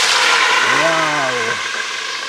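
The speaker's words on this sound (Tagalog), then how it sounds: "So, prituhin na natin mga bay." Dried fish (daing) frying in oil makes a steady, close broadband hiss, with a short exclaiming voice over it in the middle.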